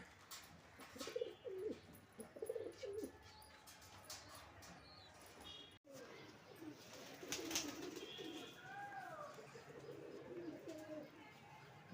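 A pair of Rajshahi tumbler pigeons, a blue male and a red female, coo softly in a quiet setting. The low, faint, intermittent coos come with slight background noise.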